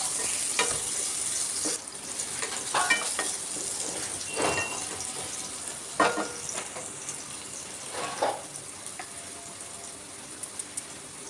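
Chopped tomatoes fry in a pan for egg masala curry, a continuous hiss broken by several scraping stirs and light clinks of a utensil against the pan, with no voices.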